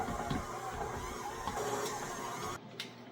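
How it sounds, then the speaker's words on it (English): An electric stand mixer runs on low while churning dry, pebbly homemade cheese cracker dough, a steady motor whir with a rough grinding texture that holds loud and close before easing off near the end. "And mix on low. I hope my little mixer can handle this."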